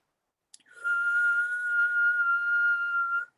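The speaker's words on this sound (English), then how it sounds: "This is called the whistle breath." A long, steady high-pitched whistle blown through pursed lips during a breathing exercise, after a brief click, clear and close and held for nearly three seconds before cutting off.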